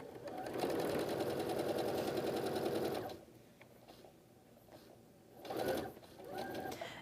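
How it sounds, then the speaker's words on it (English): A sewing machine runs steadily for about three seconds, stitching a quilt seam with a quarter-inch foot on a baby quilt. It goes quiet, then two shorter bursts follow. No one speaks. "And I'm going to just stack and continue on sewing."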